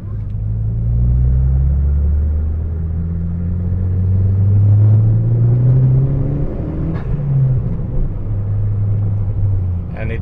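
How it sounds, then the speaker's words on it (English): A Saab 9-5 turbo with an open air filter and blow-off valve drones and rumbles while driving, its low engine note rising and falling with acceleration under steady road noise from inside the car. "You get that whoosh sound and the blow off valve, so you can really hear the turbo working."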